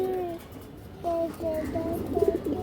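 Pigeon cooing: a black-winged female pigeon of an old Palla-line breed gives a series of soft, repeated coos in short rhythmic phrases, fairly close, over a faint background hum.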